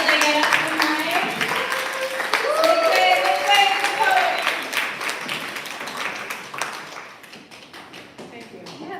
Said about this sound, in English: Applause till they get up to the mic.